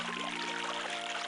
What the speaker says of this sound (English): The waterfall rushes past, drowning out all other sounds here.